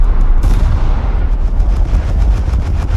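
Naval gunners in War Thunder fire at an enemy ship, a loud continuous barrage of overlapping booming shots and rapid gunfire that runs throughout, with no talking.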